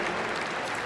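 Crowd cheering and applauding at a Kennel Club medium dog agility final, a steady, loud, dense wash of clapping that fills the whole moment without pause.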